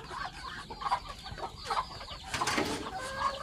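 Chickens cluck repeatedly around a farm coop, with several overlapping hens giving short, uneven calls near and at moderate distance, and no talking.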